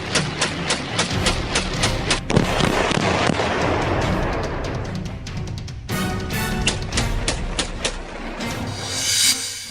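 AK-47 rifle firing rapidly, loud bursts of sharp repeated cracks in quick succession that blur into a dense barrage, with short gaps and echoing tails.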